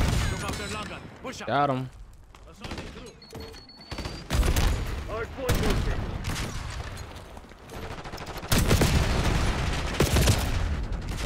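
Rapid M4 rifle fire in the first-person shooter Black Ops 6, with loud bursts and volleys recurring throughout, heaviest near the end, while someone talks over the action.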